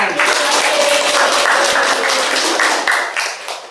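A primary school class gives a round of quick, dense clapping during a microteaching lesson on fractions, loud and close, fading slightly at the end.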